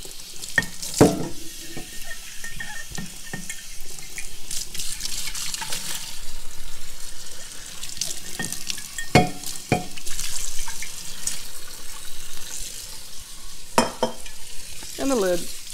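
A glass jar rinsed out with water, with close splashing and sloshing, clinks of glass and irregular handling knocks over continuous running-water noise.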